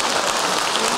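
An audience claps in a hall during a Tamil talk, a steady dense wash of applause sustained through the whole moment with no voices on top.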